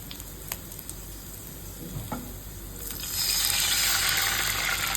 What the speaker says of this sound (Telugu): ఇప్పుడు ఇందులో 1/2 కప్ వాటర్ పోసుకోవాలి